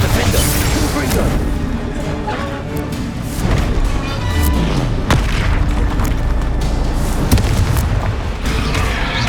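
Spell combat in the Hogwarts Legacy video game: repeated booming magical blasts and crashes, loud and dense, layered with game effects and a voice calling out spells.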